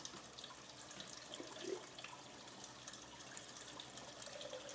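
Water circulates through a Gardyn indoor hydroponic system, a faint, steady trickling and splashing like a running tap that continues evenly and quietly without talk.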